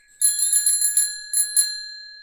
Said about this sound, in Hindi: आइसक्रीम वाला आ गया। घंटी की आवाज सुनते ही